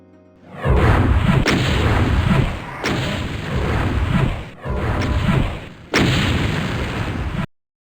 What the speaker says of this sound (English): Fortunately, their fireballs, by default, don't act like heat seekers.